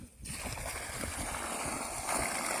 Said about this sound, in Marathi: किती प्रेशरने, एकदम फुल प्रेशरने पाणी आलं आहे